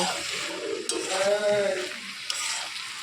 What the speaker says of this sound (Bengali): এভাবে ভালোভাবে নাড়াচাড়া করতে থাকবো যতক্ষণ না ভালোভাবে মোচাটা ভালোভাবে হয়ে যাচ্ছে